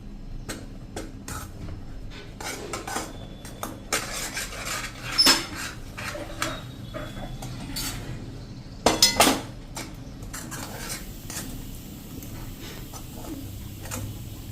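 Wheat flour being stirred in a pan on a gas stove over a slow-to-medium flame, with light, irregular clinks and scrapes of a utensil against metal and two louder knocks partway through.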